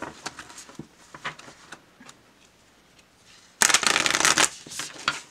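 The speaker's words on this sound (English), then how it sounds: "These actually shuffle really well." After some soft tapping and handling, a deck of cards is riffle-shuffled close up in a quick, crisp burst lasting about a second.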